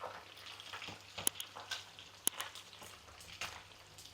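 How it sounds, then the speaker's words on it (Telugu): Chicken pieces deep frying in hot oil make a soft, steady crackling sizzle with occasional sharp pops, heard close and faint with no talking. "ఇదిగోండి చికెన్ అయితే ఆయిల్ అయితే డీప్ ఫ్రై చేస్తున్నాను అనమాట"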